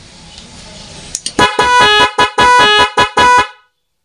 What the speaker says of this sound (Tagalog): Yan, so naka-rapid horn tayo, no.